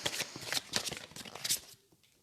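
Tarot cards being shuffled by hand, a quick series of close papery riffles and flutters that taper off into quiet.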